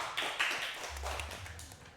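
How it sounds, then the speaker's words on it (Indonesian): Students in a classroom clap briefly for a group during a microteaching session, a short, faint patter of hands that trails off within a couple of seconds. "Beri tepuk tangan untuk kelompok 1."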